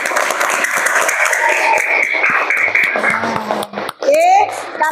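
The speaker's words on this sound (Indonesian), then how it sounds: "Tepuk tangan dulu untuk anak kelas 5 hebat." Fifth-grade pupils clapping in a classroom, a loose applause mixed with children's chatter and shuffling, broken near the end by excited high-pitched voices.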